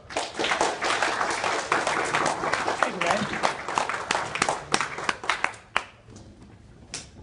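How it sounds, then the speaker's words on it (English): An audience at an evening meeting claps for Senator Scott Grow, with uneven, loud hand claps that thin out toward the end, and talking runs alongside. "give a warm round of applause to Senator Scott Grow"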